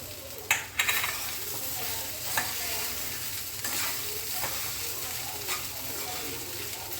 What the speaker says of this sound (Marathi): हे सगळं मिक्स करून परत परतून घेऊया.